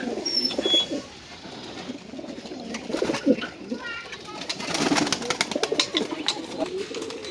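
Male racing pigeons in a loft give low rolling coos and faint chirps while someone talks close by over the flock.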